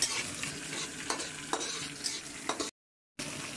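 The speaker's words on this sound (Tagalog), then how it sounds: "Tapos nagpiprito na nga pala kami ng isda. Tapos sinunod ko na yung bawang." Fish and garlic sizzle in a hot pan as a utensil stirs them, giving a steady close frying crackle broken by several soft scraping strokes, with a brief moment of silence near the end.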